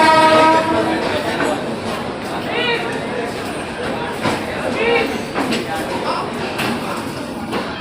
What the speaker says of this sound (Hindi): ट्रेन तुगलकाबाद शेड के WAP7 लोकोमोटिव के साथ एंटर करती है हजरत निज़ामुद्दीन जंक्शन के 7 नंबर प्लेटफॉर्म पे